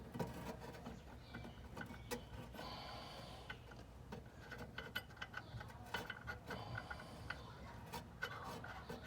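The cap is screwed back onto an MG TD gearbox, with close, faint metallic rubbing, clicks and small scraping sounds repeating at an irregular pace over a low background hum.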